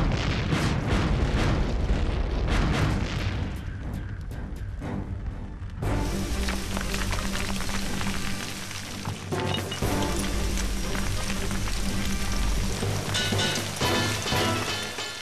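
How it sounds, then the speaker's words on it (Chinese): Cartoon storm effects of fire raining down and hail pelting on a hostile planet: dense, loud crackling and rumbling bursts with a pattering barrage, shifting abruptly midway into a heavier, sharper clattering downpour. "一会儿下火雨，一会儿下冰雹，这到底是什么破星球啊？"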